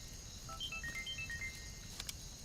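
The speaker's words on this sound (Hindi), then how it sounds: "लो नजीब का फोन।" A mobile phone ringtone chirps in a short series of bright electronic melodic tones, moderately loud over a quiet room, with no talking.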